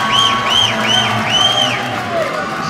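A big, loud crowd roars steadily throughout a U16 men's basketball gold medal game, with high-pitched squeaks rising and falling over the continuous din of the packed arena.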